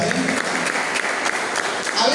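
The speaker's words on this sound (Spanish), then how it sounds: "¿Cuántos un aplauso al Señor?" A church congregation claps for the Lord during a service, a continuous even patter of many hands at moderate loudness, with voices mixed into it.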